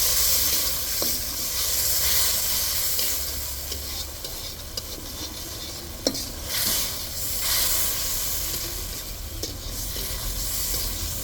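Spice paste with potatoes fries in a pan for a vegetable and rohu fish curry, sizzling steadily and close, broken by a spatula scraping and tapping every few seconds.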